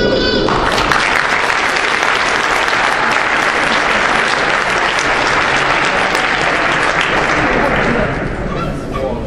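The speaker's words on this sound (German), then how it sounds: "der Applaus, der nun zu erfolgen haben wird, der wird jedem vom Publikum kommen" Loud, dense applause from the audience at an Austrian championship event, a continuous roar of many hands clapping, sustained throughout and easing slightly toward the end, with no voices on top.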